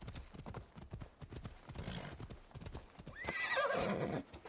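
Horse in the Assassin's Creed video game, a rhythmic clip-clop of hooves followed by a loud whinnying neigh near the end, quiet game audio with no talk over it.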